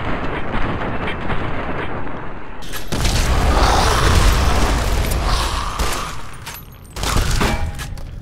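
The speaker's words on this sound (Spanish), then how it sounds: "Pegaré 5 tiros en la cabeza" Gunfire from the video game Fallout: New Vegas, a loud sustained burst of booming shots across several seconds, with a brief lull before a final blast near the end; no talking.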